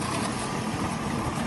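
A restored 1966 Olympique snowmobile engine runs at a steady, loud, continuous idle close by, with a dense rumbling drone and no talk over it.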